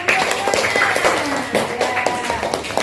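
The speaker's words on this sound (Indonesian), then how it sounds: "tepuk tangan" Students in a classroom religion lesson clap their hands briefly in a rhythmic burst, with the teacher's voice speaking over the clapping.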